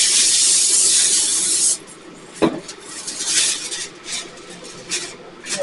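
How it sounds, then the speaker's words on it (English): Cooking spray hisses onto aluminum foil in one long steady burst, followed by the softer crinkle and rustle of the foil being handled nearby. "Make sure you spray your foil, otherwise all that cheese is going to stick to it."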